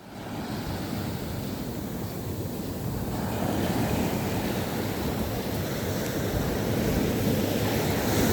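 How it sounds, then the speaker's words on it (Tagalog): Rain picks up during Super Typhoon Uwan at Nasugbu, Batangas, a steady broadband hiss growing louder about halfway through, mixed with surf-like roar and wind buffeting the microphone, with no voices. "Lumalakas ang ambon!"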